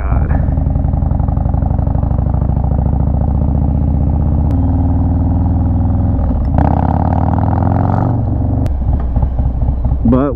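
A 2020 Harley-Davidson Low Rider S motorcycle engine rumbling loudly while riding, a deep steady throb that rises in pitch around the middle with revving, heard up close with wind noise and no speech.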